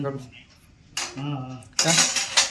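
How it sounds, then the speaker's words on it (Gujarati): A mother gathers up dishes and steel utensils after a meal at home, with close, bright clattering and clinking in two short bursts, while people talk nearby. "મારા મમ્મી જો વાસણ ભેગા કરે છે"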